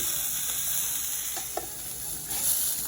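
A burger patty sizzling on a Ninja Foodi XL grill and griddle, a constant close frying hiss with a couple of faint clicks and a slight swell near the end.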